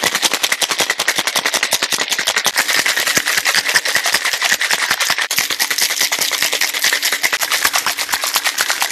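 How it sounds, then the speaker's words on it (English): Strawberry mojito cocktail with rum and ice shaken vigorously in a shaker, a fast, loud, even rattle of ice cubes striking the walls in a rapid continuous rhythm, close and alone. "we have to shake it vigorously so that the ice gets all on this thing melted"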